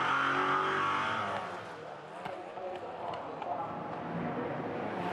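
Porsche race cars at the Australian GT Championship, Clipsal 500 street circuit, give a continuous roar of engines at speed under a commentator's voice, fading slightly partway through.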